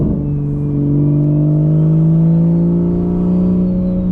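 A big-turbo 2020 Toyota Supra revs and pulls hard on the street, a deep throaty roar climbing steadily in pitch, loud and close throughout with no voices.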